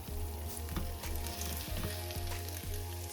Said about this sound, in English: We will now add the beef ribs to sear the meat.